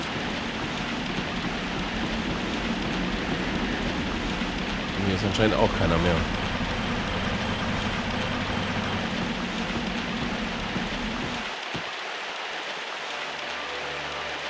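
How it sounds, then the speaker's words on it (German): Rain falling in the video game Grandia, a steady hissing downpour that fills the background, with someone talking over it and a brief chiming flourish before the rain sound cuts out near the end. "Und es regnet."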